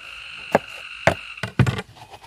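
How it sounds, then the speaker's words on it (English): Tree frogs in the countryside give three or four sharp croaking calls at irregular intervals over a steady high background chorus, moderately close and with no talking. "We got tree frogs all around us. Listen to that."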